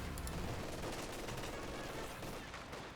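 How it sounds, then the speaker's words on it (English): MG42 machine gun rattling in sustained bursts in the World War II strategy game Company of Heroes 2, a dense, loud stream of rapid fire filling the whole moment. "MG42 setting on up will suppress these riflemen, no problem."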